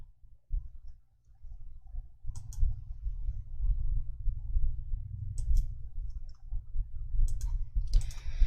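A computer mouse clicking in Excel to select merge and other ribbon icons, a few sharp isolated clicks over a steady low electrical hum.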